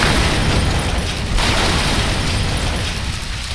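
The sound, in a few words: vehicle hit by explosion in video game ARMA 3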